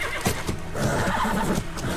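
A horse whinnies in a short, mid-loud neigh, with a faint hoof clop nearby and a dull background hum.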